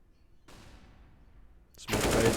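Gunfire from a Counter-Strike style esports match with an AWP sniper rifle: a sharp shot with a long decaying tail, then a louder burst of bright crackling fire near the end, heard without talk.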